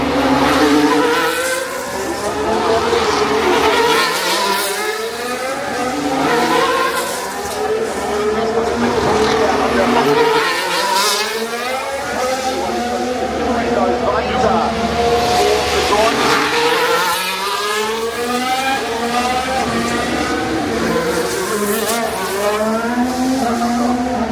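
Formula 1 cars circling the Singapore Grand Prix street circuit, a continuous loud engine roar with rising and falling pitch sweeps as cars pass, mixed with crowd and track ambience and commentary-like voices layered over it.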